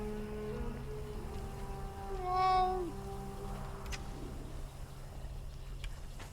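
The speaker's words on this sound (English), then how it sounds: "That was a very weird meow for that." A house cat in the Conan Exiles game gives a single drawn-out, oddly pitched meow mid-clip over steady game background noise.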